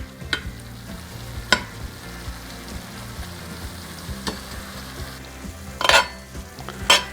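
Meat sizzles in a cast iron pot while being stirred, a continuous frying hiss punctuated by sharp scrapes and clacks of the utensil against the iron.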